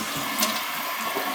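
A household toilet being flushed, a steady rushing, gurgling water sound up close that runs alone through the whole stretch.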